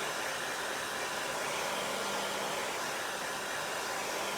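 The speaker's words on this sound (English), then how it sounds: "I'm drying this layer because I'm going to be adding one more" A hair dryer blows steadily to dry a layer of craft paint on a vintage truck design, a continuous close whooshing hiss with no breaks or voices.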